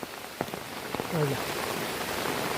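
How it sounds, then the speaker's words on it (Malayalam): Steady heavy rain hisses on surfaces outside in the background while a voice speaks briefly over it, with a few soft knocks near the start. "നല്ല മഴയാണ് കേട്ടോ പുറത്ത്"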